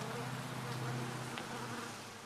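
Honeybees at a backyard beehive hum in a steady, dense drone, with a few individual bees buzzing closer past the listener.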